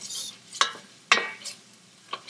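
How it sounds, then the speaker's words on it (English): Soft sizzling of onions in olive oil in a pan with a few sharp scraping stirs, close and fairly quiet, no talking. "you're going to hear a little bit of sizzling"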